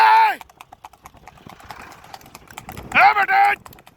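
A Sindhi horse being ridden at a gait puts down rapid, light, evenly spaced hoof clip-clops that run all the way through, while someone speaks loudly over it at the start and near the end.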